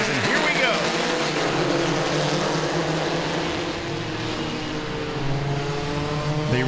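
Super trucks race side by side around Langley Speedway, their engines roaring loud and steady with rising and falling pitch, while a commentator talks over the track noise.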